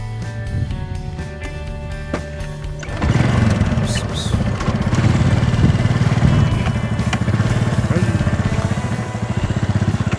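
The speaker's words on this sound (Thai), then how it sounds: "ขี่เวฟผู้ใจผมไปนะครับ เพื่อนๆมองเห็นนะฮะภูเขาลูกข้างหลัง ผมนี่ผมจะพาขี่มอเตอร์ไซค์ไป" A Honda Wave motorcycle rides through countryside near Korat. Its engine drones close up, then revs higher after a few seconds and holds a loud, pulsing hum to the end.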